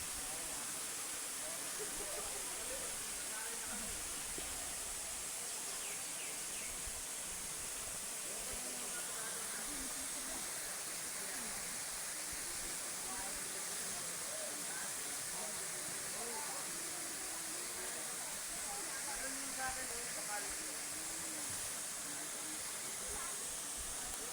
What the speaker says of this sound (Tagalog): Pero ito ang Tungtung Falls, ito ang sinasabi.